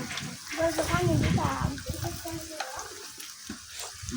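Cumin seeds crackle and sizzle in hot oil with onions, a steady close frying hiss with small pops, while a voice talks over the cooking.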